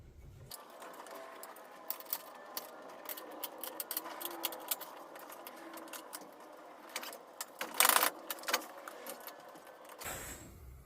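A set screw on a garage door cable drum is loosened with a hand tool: a run of small metallic clicks and scrapes close by, with a brief louder clatter near the end and no talking.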